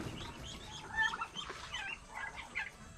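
Chickens being kept and fed, clucking in short, fairly quiet calls scattered across the moment, with faint background noise and no talk.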